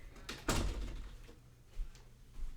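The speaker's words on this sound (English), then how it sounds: "let me close my door." An interior door closes with a soft thunk and brief rattle, followed by a faint second knock, heard fairly close in a quiet room.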